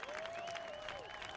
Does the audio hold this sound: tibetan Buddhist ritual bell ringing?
no